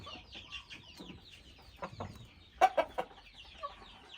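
Several young Saigon chickens, about five months old, cluck softly nearby in Kalasin, with a few sharper, louder clucks partway through, and no talking.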